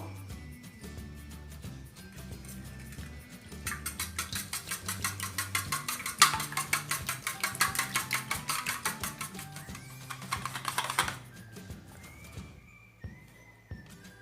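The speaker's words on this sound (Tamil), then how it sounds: "இப்போ முட்டை நல்லா பீட் பண்ணி எடுத்துட்டோம்." Five eggs are beaten for a Spanish omelette, a fast, even clatter of whisking against the bowl that runs for several seconds over soft background music, then stops.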